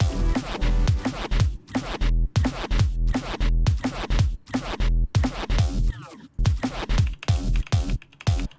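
Music with a punchy kick drum thumping in a steady beat, loud and dense, with a short drop near the end.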